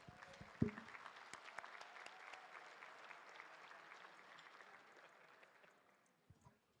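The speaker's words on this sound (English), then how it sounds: "Can we have a round of applause for all of our winners?" Applause for award winners at a photography gala, a broad spread of clapping hands in a large room, sustained for several seconds and thinning out toward the end with a few last claps.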